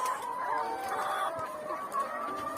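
Laying hens clucking in battery cages on an egg farm, a dense chorus of overlapping clucks and short calls from many birds, continuous and moderately close, with no speech.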